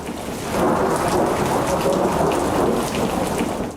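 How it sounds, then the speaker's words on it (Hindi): Heavy rain pours steadily with a deep rumble of thunder rolling underneath, loud and continuous throughout with no voices. "बिजली कड़कने की आवाज से पूरा इलाका थर्रा उठता है"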